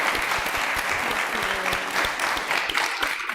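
An audience claps in steady, dense applause for children after a meditation session, a continuous wash of many hands lasting a few seconds at close range.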